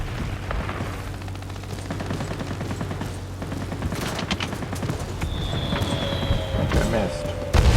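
Gunfire and bomb blasts in the World of Warplanes air combat game, a dense rolling barrage of shots over steady engine drone, with a louder burst at the end and a voice speaking briefly.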